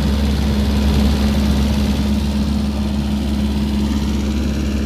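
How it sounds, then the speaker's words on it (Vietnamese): Denyo DWG-350 diesel generator welder with a Mitsubishi diesel engine, running nearby at a steady, loud idle with a constant low drone and no breaks. "Ống bô xả cũng như là chạy là không có miếng khối luôn."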